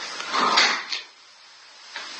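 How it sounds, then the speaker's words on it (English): An attic door in a horror game swings open with a short scraping, creaking slide that swells then fades, followed by a faint second knock, heard close with no talking. "kinyitódott az ajtó"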